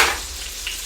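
Brussels sprouts crisping in a hot pan, a steady, loud close sizzle with a dense hiss throughout and no talk.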